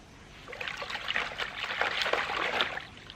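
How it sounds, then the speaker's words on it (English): Clothes dipped and swished by hand in a tub of wash water outdoors in Jamaica, with no washing machine, giving a continuous splashing, trickling slosh at moderate loudness without talk. "I think you just dip it in the water when you just dip it in the wash water."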